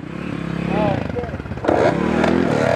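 A pit bike engine revs and buzzes through a circle wheelie in a lot, rising and falling in pitch up close, with voices talking over it.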